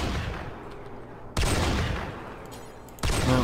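Gunfire from the video game Rimworld comes in sudden, heavy bursts of dense, crackling shots. A sustained volley fades, then is abruptly cut off by a second loud barrage, with a third burst starting near the end.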